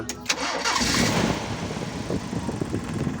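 A car engine cranks briefly and then catches, settling into a steady, close idle. The car has a fault where the engine dies when the headlights are switched on.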